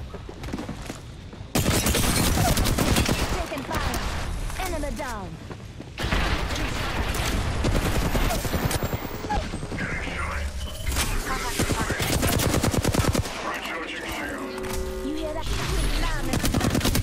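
Video game firefight with rapid bursts of gunfire, dense and loud, nearly continuous across the scene with short pauses, mixed with explosions and a player's voice talking over the action.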